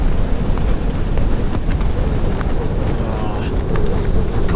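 Strong wind at a freezing arctic-condition campsite at 2,500 feet roars as a constant, heavy rush buffeting the microphone, loud and unbroken.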